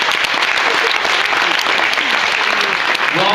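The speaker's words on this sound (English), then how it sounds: "Give Roland a big round of applause." Loud, steady applause from a school audience at a maths competition's grand champion round, honouring the runner-up, with dense continuous clapping and faint crowd noise throughout.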